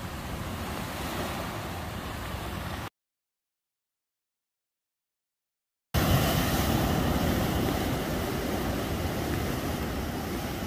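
Heavy ocean surf pounds the rocky coast at Keunkkeut Lighthouse in Dolsan-eup, Yeosu, during Typhoon Hinnamnor. A dense, continuous roar of waves comes with wind buffeting the microphone, and there is a few seconds of dead silence in the middle.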